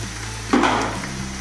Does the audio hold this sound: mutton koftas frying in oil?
yes